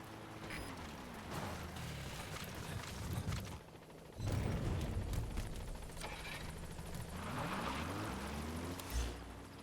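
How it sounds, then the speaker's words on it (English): A support helicopter arrives in Metal Gear Solid V, its steady rotor drone and engine whine holding throughout over rain-like hiss, swelling louder near the middle and staying close, with game music faintly underneath. "Support helicopter extraction arrived at Mother Base."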